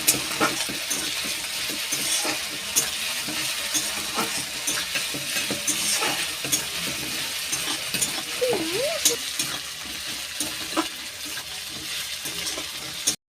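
Chopped onions with ginger-garlic paste sizzle steadily in a hot pan, with occasional stirring scrapes, loud and close throughout.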